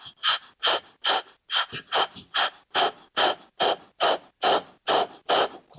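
Rapid rhythmic breath-of-fire breathing during a power yoga core exercise, with about fifteen sharp, evenly spaced forceful exhales close to the mic and no talking.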